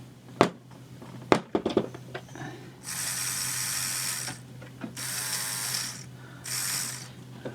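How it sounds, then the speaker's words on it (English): A toy robot's wheel gear ratchets: a few sharp plastic clicks and knocks early on, then three bursts of rapid buzzing ratchet clicking, close and fairly loud against a quiet background. "And then when you go too far, it clicks so it can't go."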